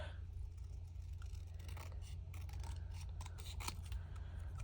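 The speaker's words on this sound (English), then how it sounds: "I'm going to use my longer scissors and just cut a rectangle around this sentiment." Repeated crisp snips and rustling of long scissors cutting a paper rectangle for card crafting, close up, over a low steady background hum.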